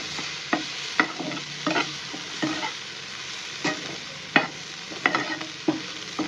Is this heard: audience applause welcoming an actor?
no